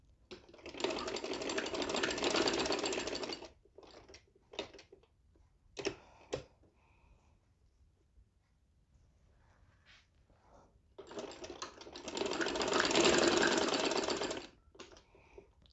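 A sewing machine stitches along one side of a fabric trouser panel, running in two long steady bursts with a quiet pause and a few short clicks between them, close and alone with no talk.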